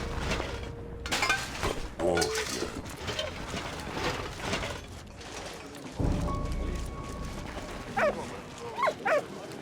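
A dog barks in the Valiant Hearts video game, a few short sharp yelps standing out near the end over busy game music and effects.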